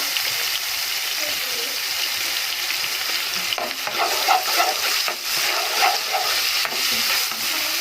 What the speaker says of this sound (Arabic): بصوا بقى يا جماعه الزيت اهو بدا يعمل